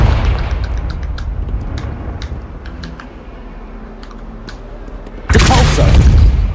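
A Confringo blasting spell goes off in Hogwarts Legacy, a sudden loud explosive burst near the end after several seconds of quiet, steady computer keyboard tapping.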